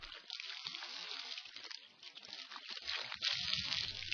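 Water splashes and sloshes in close, busy bursts as it is scooped over the face during wudu ablution, a steady wet spatter running throughout with a low gush near the end.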